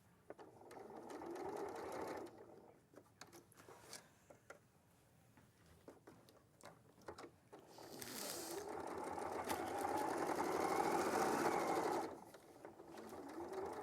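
A sewing machine runs top stitching in close, short bursts: a buzzing mechanical whir, a pause with a few clicks, then a longer steady run before it stops.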